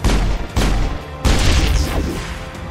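A fusion containment cell blows up in the Mass Effect video game, giving several loud, close explosive bursts in quick succession, each a broad booming crash followed by rumbling debris.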